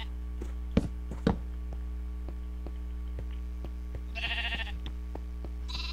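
Sheep in the video game Minecraft bleat twice in short wavering calls, with sharp clicks and knocks scattered through the steady background.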